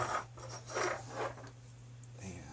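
Cutters snip and scrape at the tabs of reclaimed 18650 battery cells. Several short rasping cuts come close and fairly quiet over a low steady hum.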